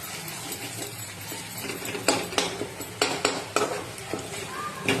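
Masala fries in oil for mutton curry while a spoon stirs it, giving a constant sizzle with repeated sharp scraping strokes against the pan that grow more frequent toward the end.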